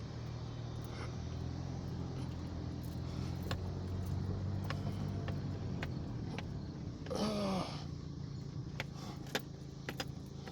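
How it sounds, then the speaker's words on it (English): A car comes down a hill on a street outside a large house still standing, its low engine rumble steady and fairly near, with a brief louder passing swell partway through. "I got a car coming down the hill."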